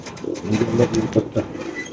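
Racing pigeons in a loft coo softly nearby, a few short throaty pulses in quick succession.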